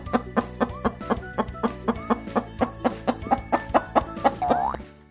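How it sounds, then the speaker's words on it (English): A chicken clucks in a steady run of about fifteen short, sharp, close calls, evenly spaced and fairly loud, ending in a slightly longer squawk. "Chicken says cluck,"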